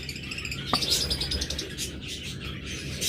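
A breeding pair of pet birds calls from a cage with short, bright chirps and tweets over a soft background hiss, including one sharp click near the start.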